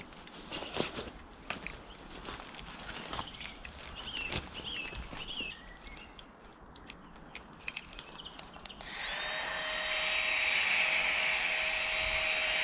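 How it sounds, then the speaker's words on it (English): An electric air pump inflates a Thermarest air pad at a stealth camp by disused locks. Quiet outdoor rustling and light knocks come first, then a steady, fairly loud whirring hum starts partway through and runs on evenly to the end. "Got the thermarest air pad and we've got the pump, so let's get this blown up"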